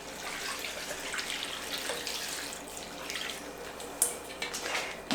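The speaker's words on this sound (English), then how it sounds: "You pour this all over the meat." Liquid pours and splashes steadily over deer meat laid on towels for venison breakfast sausage, a continuous close trickle with a brief sharper splash near the end.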